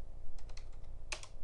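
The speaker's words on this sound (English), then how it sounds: "type in 0 on the keyboard." Fingers tapping keys on a computer keyboard while shapes are morphed in software, a few quick clicks in two short bursts, close and fairly quiet with no talking.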